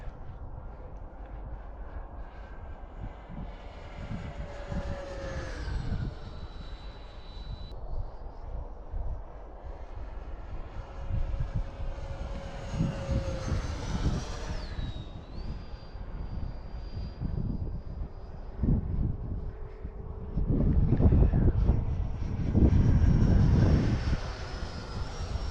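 A QT Models T45 Hawk RC model jet flies past on its maiden flight, its turbine whine rising and falling in pitch as it passes near and far, swelling loudest toward the end, with no talk.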